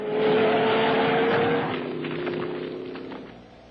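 A wild truck ride in a film scene: a loud vehicle engine roar with a steady whine that rises to full volume quickly, then eases and fades slightly toward the end, with no talk over it.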